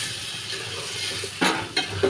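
Potatoes sauté in a spice mixture, a soft continuous sizzle in the pan broken by a few louder scrapes and clinks of a spoon stirring against metal.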